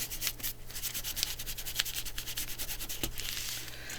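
Glue being rubbed off washi tape in a paper craft, a close series of brisk, scratchy rubbing strokes repeated in quick rhythm with no one talking.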